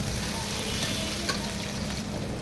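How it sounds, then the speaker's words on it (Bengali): Finely chopped onion sizzles in hot oil, a dense and continuous frying hiss across a short moment. "আর এখানে দিয়ে দিলাম কুচি করে রাখা পেঁয়াজ কুচি"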